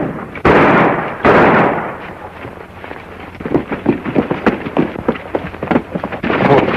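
Loud, booming gunshots ring out in a western-style shootout: two heavy blasts with long rumbling echoes, followed by a rapid scatter of sharper cracks and thumps.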